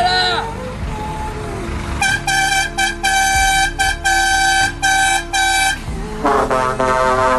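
A truck air horn blares nearby in a rapid series of loud rhythmic honks, pauses, then sounds again, with people's voices around it.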